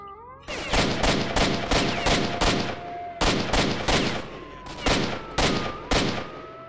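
Gunfire in S.T.A.L.K.E.R. Shadow of Chernobyl, a loud run of sharp shots in close, rapid bursts with short gaps between volleys, continuing for several seconds with no talk over it.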